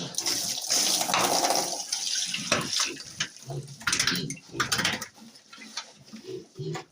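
Fresh water is poured into a drinking trough for pigs, a steady splashing flow with broken gurgles and bursts, close and moderately loud.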